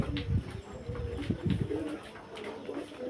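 Pigeon cooing nearby in a home setting: a series of soft, low, throaty coos in short bursts, fairly close, repeating over a few seconds with faint background noise.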